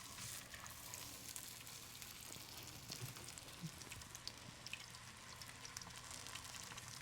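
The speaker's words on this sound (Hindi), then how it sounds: "हल्का सा आपने ऑयल डालनी है और फिर बस कबाब इस तरह डालना शुरू करें।" Kebabs frying in a thin layer of oil in a pan, a steady soft sizzle with scattered crackles and pops running throughout, fairly quiet and with no talking.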